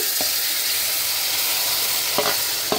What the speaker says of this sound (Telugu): 1 అవర్ తర్వాత ఒక కడాయి పెట్టేసుకొని ఒక 3 to 4 టేబుల్ స్పూన్ ఆయిల్ వేసుకొని మనం మ్యారినేట్ చేసి పెట్టుకున్న చికెన్ అంతా వేసేసి